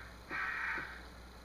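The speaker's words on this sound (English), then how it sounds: "like those crows. No. Ravens. I think it's ravens." A single crow or raven in the Resident Evil video game gives one harsh, drawn-out caw, fairly faint, against a quiet background.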